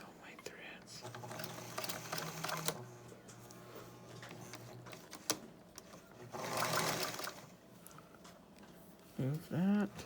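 A sewing machine runs in short bursts of stitching to lock the threads on a bowl cozy, with a quiet close whirring hum, a sharper louder run near the end and soft whispery handling sounds between.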